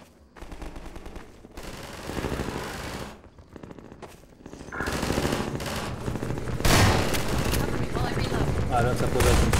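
Rapid gunfire from the video game Half-Life 2, bursts of shots swelling into a dense, loud barrage in the second half, mixed with game effects and under occasional voices.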